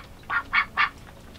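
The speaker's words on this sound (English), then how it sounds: "just a little bit louder with the ducks echoing." Ducks inside a greenhouse give three distinct, evenly spaced quacks that ring slightly off the enclosed walls, close and clear against a quiet background.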